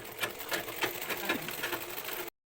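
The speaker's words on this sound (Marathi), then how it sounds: "हे बघा, हे दोन्ही धरून शिलाई मारायची." A domestic sewing machine stitches a strip of extra fabric onto a saree, running in a quick, steady rattling whir with light rhythmic ticks for about two seconds before stopping abruptly, no talking.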